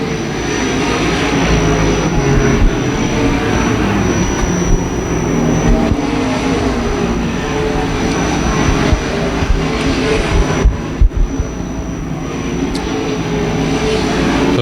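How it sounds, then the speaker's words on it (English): Lucas Oil modified race cars at Tucson Speedway roar continuously as they circle the track. The engines form a loud, dense drone that rises and falls slightly throughout. "Taylor Mitch has enough open track in front of him that he could get right back on the gas and keep Johnson behind him."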